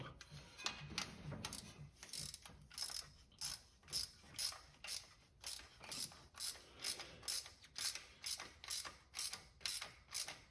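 A ratchet ticks steadily in repeated strokes, each a quick run of clicks, while snugging a bolt on a Sanden compressor bracket on a Buick 350 engine; close, moderately loud and regular.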